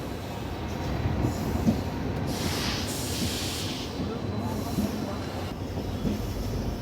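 The 14888 Barmer-Rishikesh express train rolls into Rajpura Junction with a steady, loud low rumble of wheels on track, occasional clacks and a faint high squeal, heard from on board without talking.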